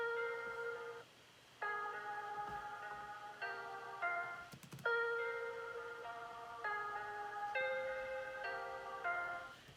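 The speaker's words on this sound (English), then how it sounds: "there's also this guitar that I chopped up" A chopped-up guitar sample processed with distortion and EQ repeats as a bright, clean melodic pattern of short plucked notes in stop-start phrases, played quietly and alone.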